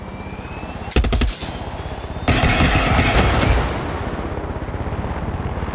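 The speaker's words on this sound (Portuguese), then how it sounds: "Ele tá atirando!" Gunfire in the Far Cry 6 video game: a short burst of rapid automatic shots, then a longer sustained volley, loud over a steady engine-like drone.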